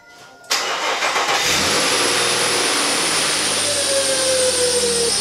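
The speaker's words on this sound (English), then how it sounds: "starting the car back up and being like, yeah, I put it back together right" A car engine cranks and fires after an oil change, catching abruptly and then settling into a loud, steady idle with a faint rising whine, close by and with no talk.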